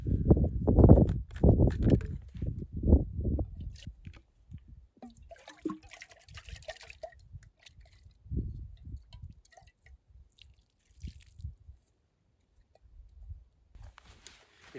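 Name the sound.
rinsing out a dirty pot with water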